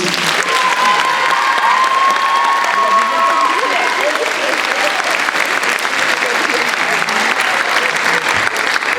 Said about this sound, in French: Vous pouvez applaudir le pupitre mezzo.